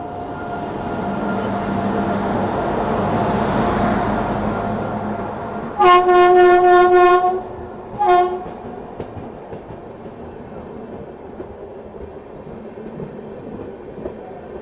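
A train departs Howrah railway station: a steady low rumble of rolling wagons builds, then two loud horn blasts sound, the first longer and the second short, before the clatter continues more quietly in the distance.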